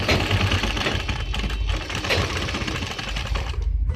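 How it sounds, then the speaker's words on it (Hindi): A sewing machine stitches the collar of an angrakha suit through fabric and buckram, giving a loud, close, continuous rapid mechanical whir with no talking. "इस तरीके से सिलाई लगा कर इसको बंद करेंगे।"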